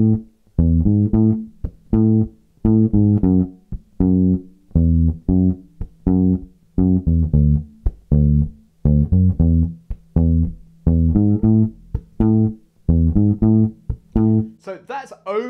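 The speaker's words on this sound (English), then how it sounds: "I'm sure you know the bass line, which sounds like this." A bass guitar plays a bass line, a repeating pattern of short, punchy low notes in steady grouped phrases, loud and alone, with a brief bright percussive tap near the end.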